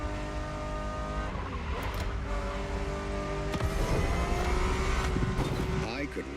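Car engine in the racing game The Crew Motorfest, heard from inside the cabin: a loud, sustained engine drone with steady harmonics that climbs in revs and grows rougher and louder toward the end, with speech faintly underneath.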